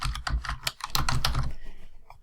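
Typing on a computer keyboard, a quick run of close clicking keystrokes that fades out near the end, with no voices.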